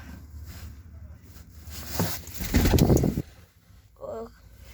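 Soft pigeon cooing and rustling, with a burst of fluttering wings in the middle, close by.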